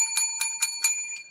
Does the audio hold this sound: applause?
no